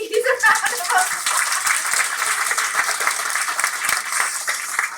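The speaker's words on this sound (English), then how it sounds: "let's give our three ladies a round of applause." An audience at a talk gives a sustained round of applause, dense clapping near and far that holds steady for several seconds before thinning slightly, with faint voices underneath.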